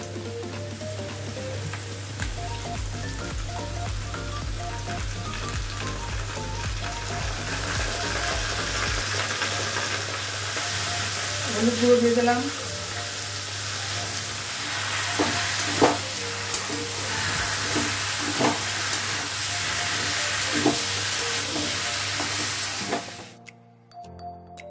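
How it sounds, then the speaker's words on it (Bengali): Papaya and potatoes sizzle with spices and turmeric in a pan, a steady loud fry with occasional stirring scrapes, ending abruptly; someone speaks briefly over it. "মশলাটা ভাজা হয়ে গেছে।"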